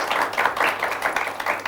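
A studio audience on a morning TV show gives a short burst of applause, with dense, lively clapping throughout.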